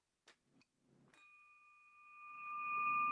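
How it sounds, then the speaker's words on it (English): A bell rung to mark an announcement at a community meeting, a single clear ding that rings on and swells as it sustains, following a few brief faint knocks. "President Sue, please ring the bell"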